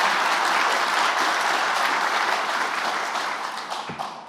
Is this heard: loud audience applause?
yes